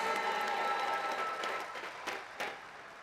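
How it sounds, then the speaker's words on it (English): An audience at a high school graduation ceremony claps in a sustained round of applause that fades gradually, heard at a moderate distance with a few louder claps near the end. "Family members, friends, let's give them a round of applause."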